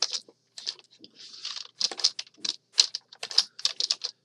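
Rapid, close keystrokes on a computer keyboard while entering a spreadsheet formula, uneven bursts of crisp clicks with short pauses between groups and no voices.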